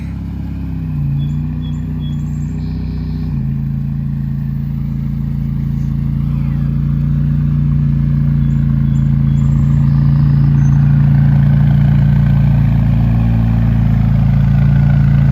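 An S70 GT car engine idles with a steady, loud, close drone that climbs slightly in pitch and strength as it runs, with a few faint high chirps above it.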